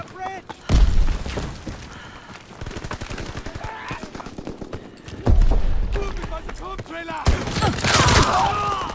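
Call of Duty: World War 2 gunfire: heavy booming shots open the clip, followed by sustained rapid automatic fire, another loud burst midway and a dense volley toward the end, with game effects throughout.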